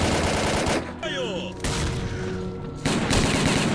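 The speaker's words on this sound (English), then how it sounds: "Why are you shooting me?" Gunfire in S.T.A.L.K.E.R.: Call of Pripyat, dense bursts of rapid loud shots in two stretches with a short lull between, close and harsh, with a voice speaking in the pause.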